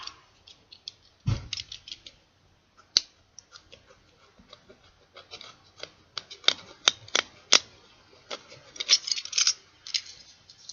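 Scissors snip through material for a homemade prop of Kirito's black long sword, a quiet series of sharp, irregular clicks and cuts close by, with brief pauses between bursts.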